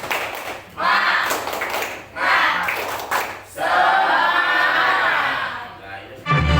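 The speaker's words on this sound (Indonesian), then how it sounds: "Tepuk semangat." An elementary classroom does a rhythmic spirit clap: several bursts of many small hands clapping in patterned groups, with children's voices chanting along between and over the claps.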